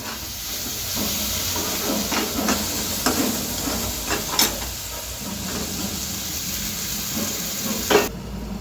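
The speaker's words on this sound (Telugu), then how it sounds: "ఇప్పుడు మనం టమాటా వేసుకుందామండి." Tomatoes hiss and sizzle loudly in a pan, a steady frying noise broken by a few stirring scrapes, close by.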